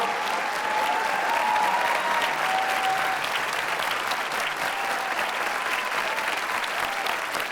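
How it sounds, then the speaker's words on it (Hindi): Large mushaira audience at Jashn-e-Rekhta gives Waseem Barelvi loud, sustained applause, a continuous dense roar of clapping that holds steady from start to finish. "ज़ोरदार तालियों से आप"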